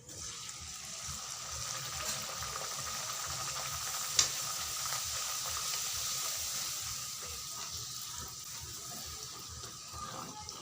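Luchi fry in hot oil, a dense bubbling sizzle that holds steady and fairly quiet throughout, with one brief sharp click partway through and no talking.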